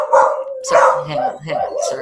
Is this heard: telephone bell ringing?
no